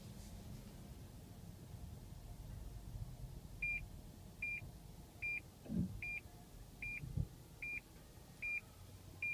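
A 2014 Lexus RX 450h AWD sounds its forward warning, a series of short, evenly spaced electronic beeps, about eight in a row, clear over a low cabin rumble.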